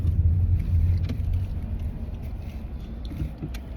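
Steady low road rumble from inside a moving car, a continuous engine and tyre drone that eases slightly toward the end, with a few faint knocks and no talking.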